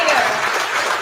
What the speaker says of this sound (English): Let's give another round of applause for the Lincoln High